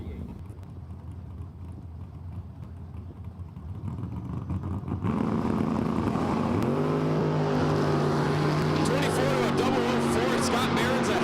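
Scott Barron's Heartbreaker Mopar drag car launching at an outlaw drag strip event, a quiet idle building into a loud, sustained engine roar with rising revs that holds to the end, with an announcer talking over it.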